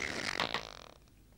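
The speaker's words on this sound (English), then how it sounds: "All this trouble over one little fart." A single raspy, buzzing fart breaks out in a comedy scene. It is loud at first, then tapers off over about a second, with no talking over it.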